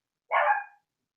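One dog gives a single short, sharp bark nearby, abrupt and clear against silence, with no other voices.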